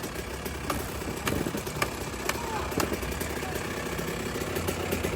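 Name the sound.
Honda Elsinore two-stroke motorcycle engine being started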